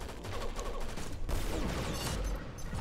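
Gunfire in Pixel Gun 3D, a sniper rifle in the crocodile-themed Crocorifle style, heard as dense, overlapping bursts of shots filling the whole stretch at steady loudness, with no one talking.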